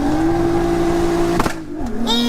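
A turbocharged Nissan R32 with a smoking, worn engine is driven hard, holding a steady loud droning tone before a sharp burst and a drop in pitch as it shifts and revs again.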